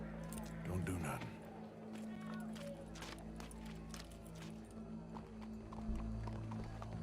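Horse hooves clip-clop steadily amid busy game sounds in Red Dead Redemption 2 and a faint background murmur, the rhythmic clatter continuing throughout.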